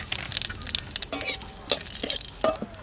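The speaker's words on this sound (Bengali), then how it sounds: "ফোড়ন দেব, তার জন্য তেল দিচ্ছি কড়াইতে।" Bay leaf, dried red chili and cumin hit hot oil in a wok for tempering mung dal, giving crackling bursts of sizzle mixed with spoon clinks and stirring, close and uneven.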